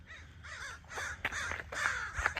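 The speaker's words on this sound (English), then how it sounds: "Wow, that really is a murder of crows, you all." A murder of crows caws repeatedly outdoors, harsh overlapping calls coming in rapid succession at close range, with several birds answering one another and no talk.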